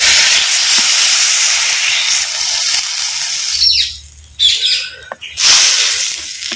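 Water poured into tomato masala frying in hot oil for a village-style dried mutton curry sets off a loud steady hiss that fades into rough spluttering bursts of sizzle and steam, with no talk.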